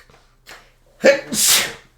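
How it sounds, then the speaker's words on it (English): A single sharp human sneeze: a short inhale builds up, then a loud explosive burst with a breathy hissing tail, heard alone in a quiet room. "we just spoke about somebody sneezing"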